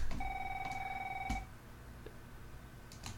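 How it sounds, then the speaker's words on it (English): A telephone rings with a two-tone electronic trill lasting about a second and a half, loud and close, then cuts off, leaving faint room noise and a few small knocks. "good old ring sound."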